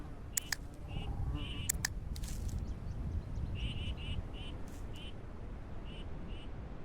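Duck calls from a flock in a bird-hunting video game, short nasal quacks repeated in quick bursts at moderate distance, heard faintly over a low background rumble.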